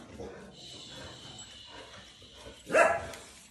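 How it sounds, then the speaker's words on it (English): Dogs bark indoors, faint and scattered at first, then one loud bark bursts out near the end, with low speech-like sounds underneath. "Again, excuse my dogs. They bark over everything."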